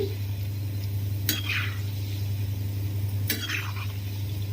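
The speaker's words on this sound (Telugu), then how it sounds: "మంచిగా కలుపుకుంటూ వీటిని ఫ్రై చేసుకోవాలి" Steady low sizzle of wheat flour sweets frying in oil, with two brief scraping stirs of a utensil, close and fairly quiet, no talk.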